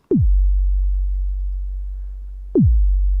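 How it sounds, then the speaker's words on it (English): Two deep kick drum hits from an Arturia MicroFreak synthesizer, each a sharp pitch-dropping thump followed by a long booming low tail, spaced about two and a half seconds apart. "that's a pretty classic kick drum sound."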